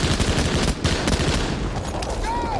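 Battle-scene gunfire from a Vietnam War film: dense, loud bursts of rapid shots and explosions fill the clip, with shouted voices buried in the chaos.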